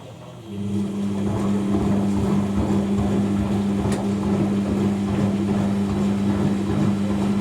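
An Indesit 1196W Ecosense washing machine spins its drum during a 60ºC fast coloured wash programme, holding a steady low motor hum with a constant tonal whine, close and continuous, with no voices.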